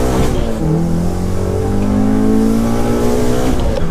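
A BMW 116i sleeper build revs hard and accelerates, its engine note climbing steadily and loud from inside the car for the full four seconds, with no talk over it.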